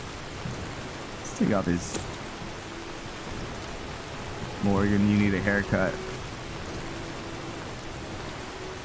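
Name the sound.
rain falling in the video game Skyrim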